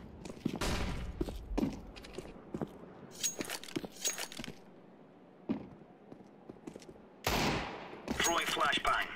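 Desert Eagle pistol shots in the video game CS:GO: sharp, loud single reports spaced apart amid in-game footsteps and equipment rattles, with a denser burst of gunfire near the end.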